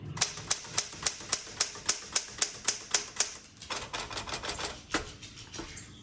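A repainted red 1967 Smith Corona Classic 12 manual typewriter types in sharp, evenly paced keystrokes, loud and close, then shifts into a quicker, softer run of strikes with a few heavier clacks.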